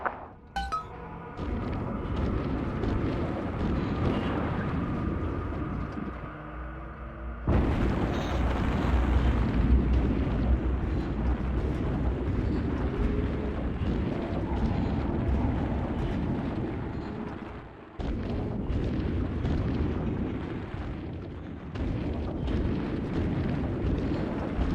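Bombs exploding as the underwater city falls in BioShock 2 Remastered: deep, sustained rumbling blasts and roaring eruptions that swell and surge in waves, loud and close, with no voices.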